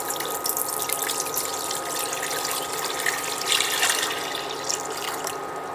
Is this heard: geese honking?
no